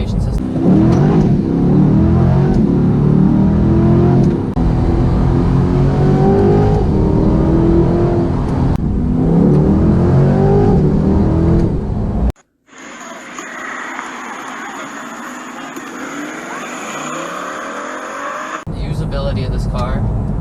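Chevrolet Corvette C8 V8 engine with the exhaust set to track mode, revving repeatedly in loud, rising and falling bursts, followed by a quieter section of steady engine drone.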